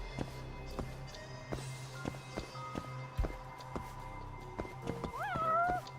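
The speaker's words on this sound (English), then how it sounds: "There's a cat somewhere." A cat meows in the video game Judgment, one rising-and-falling mew near the end over soft footsteps and game ambience, fairly quiet overall.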